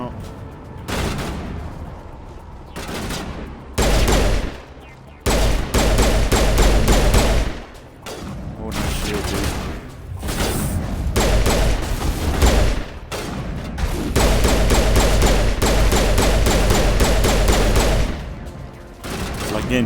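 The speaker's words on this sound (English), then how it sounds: "Getting headshots with the pistol is so satisfying." Rapid bursts of gunfire in the sci-fi shooter Mass Effect Legendary Edition, loud repeated shots in quick clusters with short pauses, over game music and effects.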